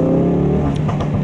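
A 2017 Ford Focus RS in sport mode driving fast, its engine droning loud and steady from inside the cabin with a continuous throaty hum and slight rising strain.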